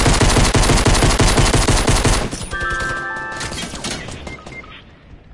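Rapid automatic gunfire from the battle-royale game Fortnite, loud and dense bursts for about two seconds, then thinning to scattered shots and ringing tones.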